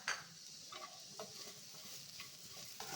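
Vermicelli being fried in a pan for carrot payasa gives a soft, quiet sizzle with a few light scraping stirs and small clinks, close and low in level.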